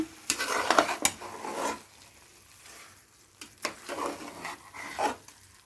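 Washed rice is stirred into chicken biryani masala in a pot with a spoon, giving several scraping, clattering strokes in bursts separated by quieter pauses. Nobody speaks.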